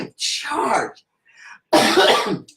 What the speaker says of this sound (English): Also coughing and choking and burping at the same time.